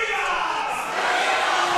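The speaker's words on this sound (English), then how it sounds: "the crowd joining in" A wrestling crowd at an FWA show chants along in unison, a loud, sustained wash of massed voices without a break.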